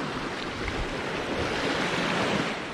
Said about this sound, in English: Wait for this wave to come.